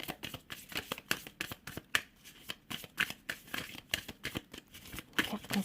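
Tarot cards being shuffled for a single advice draw, a fast, steady run of crisp riffling flicks and soft slaps close by, continuous throughout with no talking.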